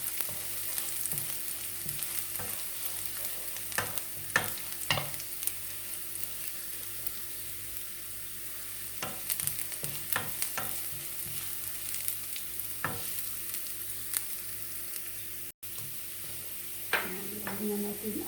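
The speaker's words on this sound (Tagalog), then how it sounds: "Ang ilalagay lang natin guys ay tofu. Tofu lang ang saugin." Tofu sizzles and fries steadily in a pan with garlic, with scattered scraping stir clicks throughout and a brief clatter near the end.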